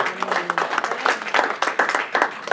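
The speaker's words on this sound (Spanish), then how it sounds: "Y le damos un aplauso a los que nos ven por la red." Church congregation clapping together, a steady dense patter of many hands with a short murmur of voice near the start.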